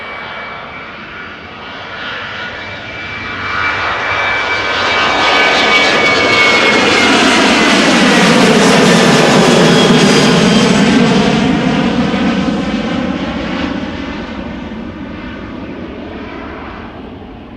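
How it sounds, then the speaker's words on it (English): A Boeing 737-900 jet airliner bound for Birmingham departs from Amsterdam Schiphol, its engine roar swelling to a loud, close peak midway and then fading as it climbs away. "This is a Boeing 737-900 going to Birmingham."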